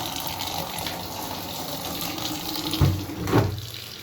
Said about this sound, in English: I'm going to fetch water afresh to rinse it